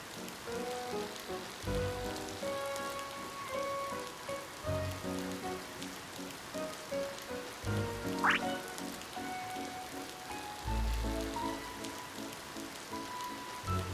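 Rain falls steadily in the game Ova Magia as a soft, continuous hiss, with gentle background music and a few quacking or croaking creature calls breaking through now and then.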